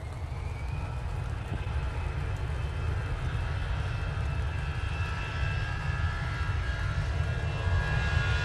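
Jet airliner engines at Manchester Airport, likely a TUI jet, give a steady broadband roar with a heavy low rumble, holding level and swelling slightly toward the end.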